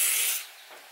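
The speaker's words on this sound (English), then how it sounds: "take our WD-40 or a light oil and spray" A short hiss of WD-40 sprayed inside the column of a Bendpak four-post car lift in a small garage, close and bright, fading quickly.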